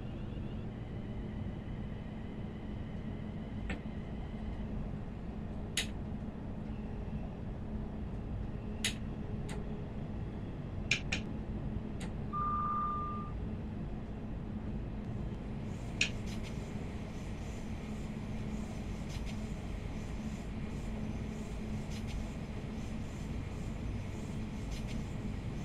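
Class 700 electric train driven in the game Train Sim World 4, giving a steady low rumble throughout with scattered faint ticks and clicks on top and no talking.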